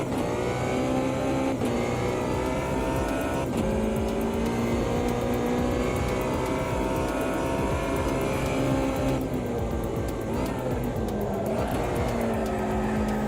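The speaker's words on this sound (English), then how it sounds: "You do amazing donuts, by the way. Proper Rallycross donuts you can do in these." A racing car in Automobilista 2 does rallycross-style donuts, its engine roaring continuously at high revs with repeated pitch swings and dips, loud and constant throughout with no talking.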